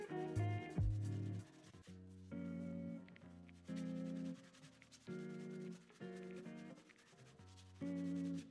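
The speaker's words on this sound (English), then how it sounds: "I sand it back down with the 800 grit sandpaper" A leather wallet edge is sanded with 800 grit sandpaper in repeated rhythmic strokes, each rub lasting about a second with short pauses between, close and soft.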